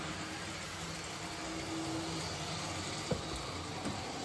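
A 1964 Triang-Hornby Freightmaster toy train in poor condition runs loudly and steadily, a constant close mechanical whirr and rumble with a faint tonal hum and a brief click near the end.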